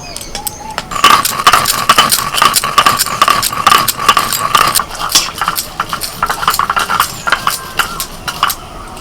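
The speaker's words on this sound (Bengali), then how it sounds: "ভাজা মশলাটা একটু গুঁড়িয়ে নেব" Roasted spices crushed for mango chutney, a run of sharp, rhythmic pounding knocks, loud and close, with a faint high ringing tone under the first half.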